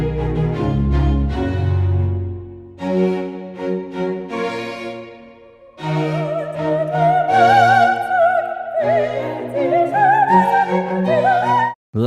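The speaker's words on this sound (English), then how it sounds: "I want the voice of an opera singer joining the orchestra." Full orchestra with an operatic voice layered on top, low sustained chords and swells, then after a brief dip a wavering vibrato soprano line rising above the ensemble, loud and dense, ending abruptly.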